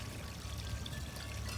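A small solar pond fountain pumps out water in a continuous splashing, pouring stream, close and steady throughout with no pauses.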